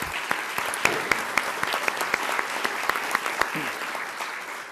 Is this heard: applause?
yes